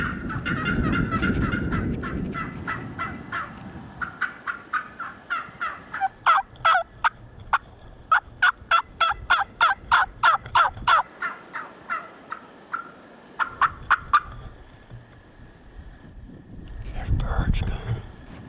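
Wild turkey gobblers gobble outdoors while a flock moves, with a long run of rapid, sharp clucks and yelps from the birds, loud and fairly close, and someone speaks softly at the start and end.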